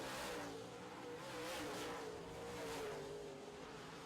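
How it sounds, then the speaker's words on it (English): A modified race car at full throttle during a heat race, its engine a continuous broad roaring drone that swells and fades slightly as it runs at speed, heard from a distance and fairly faint, with no talking. "Dustin Wall has his foot to the floor, and that car has lots of speed."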